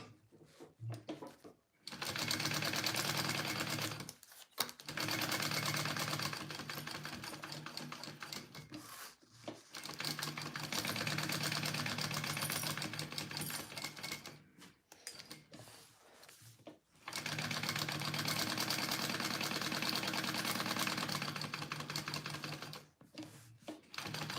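A home sewing machine bastes fabric pieces together for a pouch, running in long continuous whirring stretches broken by brief pauses, steady and fairly close.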